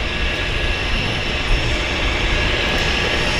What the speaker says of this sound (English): We've got passengers boarding the Twin Otter.